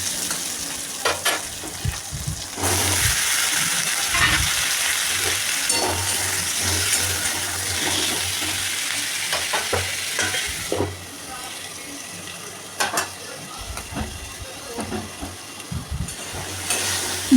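Chopped onions and panch phoron spice mix fry in hot oil in a pan, giving a steady close sizzle broken by repeated scraping stirs throughout, with no talking.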